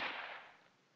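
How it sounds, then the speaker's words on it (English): A single gunshot in the Sweet Fuse video game cracks sharply, then fades out in a short, quiet decay. "As he cried out, I heard a gunshot."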